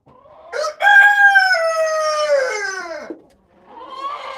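An Americana hen gives one loud, drawn-out call lasting about two seconds, rising then falling, close to the recorder, followed by a softer second call after a short pause.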